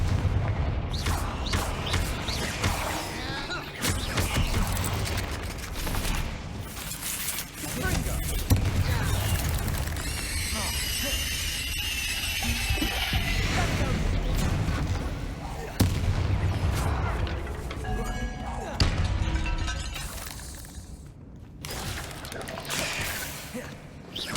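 Explosive spell blasts in Hogwarts Legacy, a busy run of booming, crackling impacts layered over game music and effects, with a voice calling out spell names throughout.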